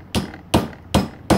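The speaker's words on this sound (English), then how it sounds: "and then just use the hammer" Four sharp, loud hammer blows spaced about half a second apart, striking a spoon held in a vise to shape it into a ring, heard up close with no talking.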